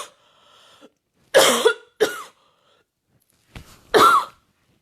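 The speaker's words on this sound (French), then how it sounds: "Excusez-moi, je vais tousser." Several sharp coughs come from one nearby person, a single cough followed by a closely spaced pair, then another pair after a pause, in an otherwise quiet room.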